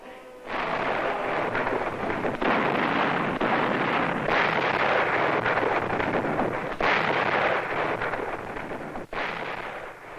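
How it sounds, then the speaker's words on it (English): Artillery guns and rockets fire a victory salute in Moscow, heard as loud, continuous rumbling booms with a few abrupt breaks, rough and distant-sounding, with no talking. "Now the guns and the rockets in Moscow celebrated a great series of Russian victories."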